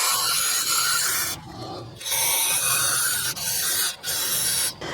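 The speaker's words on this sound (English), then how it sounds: "I'm just gonna spray brake cleaner directly in there and let it soak" Brake cleaner sprays from an aerosol can into a brake caliper on a Lexus RX300. It makes a loud, close, broadband hiss in several sustained bursts separated by brief pauses.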